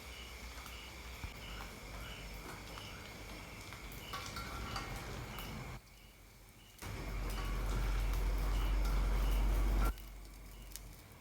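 Keropok lekor made from tuna frying in plenty of oil, giving a steady, close crackling sizzle. The sizzle briefly drops away partway through, then returns with a heavier low rumble.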